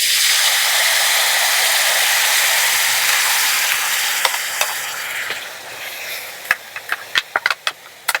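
Spice paste poured into a pan of sizzling garlic, ginger and green chili, a loud hissing roar that slowly settles, then sharp scraping stirs and clicks toward the end.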